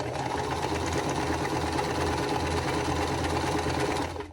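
A sewing machine runs steadily at close range as two quilt block pieces are stitched right sides together, a continuous even motor whir with fast needle chatter lasting the whole stretch.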